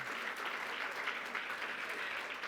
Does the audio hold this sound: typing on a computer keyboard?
no